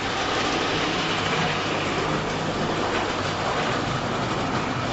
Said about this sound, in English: First of all, we're going to start the diesel.